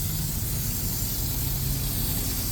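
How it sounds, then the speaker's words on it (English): Tire cleaner sprayed into the engine bay of a 2014 Nissan Frontier truck, a close, loud, continuous aerosol hiss that holds steady for the whole stretch without a break. "I'm gonna start with putting tire cleaner on up in the engine and some of these places"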